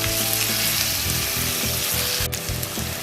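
Steady sizzling of garlic and spices frying in a hot pan, loud and close, with a soft rhythmic scraping pulse underneath and one sharp click near the end.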